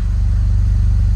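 A Saab 9-3 fitted with a Maptun dual exhaust idles steadily and quietly, a low, even engine burble close by with no talking over it.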